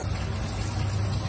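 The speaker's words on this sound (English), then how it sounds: "You can hear the pump going." A live well pump runs on a small skiff, giving a steady, even mechanical hum with broadband hiss and no change in level, close by and without any talking.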